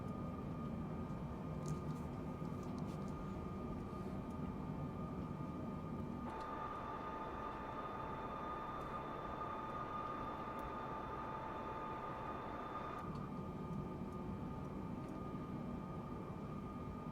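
Airplane engines in Microsoft Flight Simulator 2024 drone steadily through a fast climb, a constant broadband roar with a brighter, louder stretch in the middle section and no talk over it.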